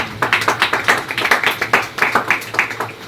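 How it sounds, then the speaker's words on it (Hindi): A small congregation at a Hindi-Urdu church sermon claps loudly for a girl who answered correctly, a brisk burst of sharp individual claps, close and uneven, with no speech over it. "जोरदार तालियां बजाएं बेटी के लिए।"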